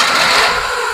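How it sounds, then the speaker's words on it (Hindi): A Maruti Eeco car engine started with the self-starter and catching, a loud close mechanical whirr settling toward idle over about a second, with no talk. "ये लो जी, हमारी गाड़ी हो चुकी है स्टार्ट।"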